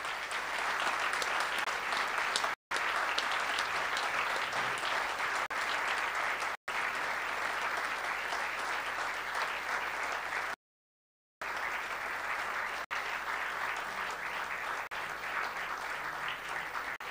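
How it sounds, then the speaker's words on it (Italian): A large assembly at a gathering for Giulio Regeni breaks into sustained applause, heard faintly and steadily throughout, with several brief dropouts cutting the sound. "Facciamo un applauso a tutte le persone che sono collegate e che fanno parte di questa grande assemblea."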